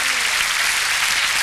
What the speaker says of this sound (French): Je voudrais qu'on applaudisse très fort